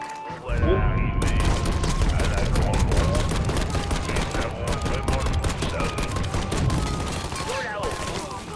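Dense gunfire in the Mafia 3 video game, rapid overlapping shots and bursts forming a continuous loud barrage for several seconds, with a voice briefly heard alongside.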